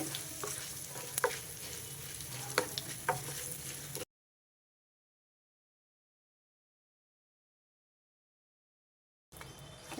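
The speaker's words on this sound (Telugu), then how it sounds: "మన పోపు వేగిపోయింది" Spice tempering of fenugreek powder and asafoetida frying in oil for a red chilli pickle, a steady close sizzle with a few stirring clicks for about four seconds, then total silence before the sizzle briefly returns at the end.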